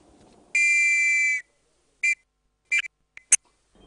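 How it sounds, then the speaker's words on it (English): Residents blow a warning whistle at night to alert neighbours to danger: one long, shrill blast, then several short, sharp toots with gaps between them, alone and moderately loud. "It was a whistle."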